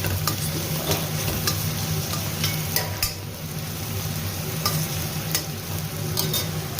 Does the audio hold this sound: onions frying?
yes